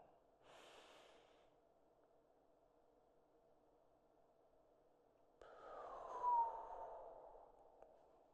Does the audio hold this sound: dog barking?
no